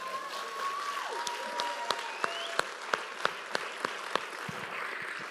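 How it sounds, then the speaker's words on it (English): A church congregation applauds, a soft bed of distant clapping with a string of sharp, evenly spaced claps close by and a few faint whistle-like tones drifting through. "Can I just give him one more round of applause?"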